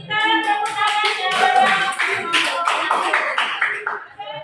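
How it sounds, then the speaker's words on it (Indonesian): A group claps hands together in a classroom, dense overlapping claps lasting several seconds, fairly loud and close, with a few voices mixed in. "Kita tepuk tangan ya."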